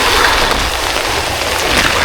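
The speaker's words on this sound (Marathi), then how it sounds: "पाऊस एवढ्या जोरात चालू आहे" Heavy monsoon rain pours down steadily on a ghat road in Maharashtra, a loud, dense, unbroken hiss filling the whole moment with no voices.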